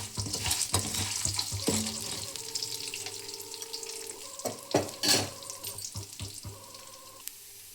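Urad dal and cumin seeds fry in a little oil in a pan, giving a soft sizzle under clinks and scrapes of stirring, with a brief splash or running tap in the background.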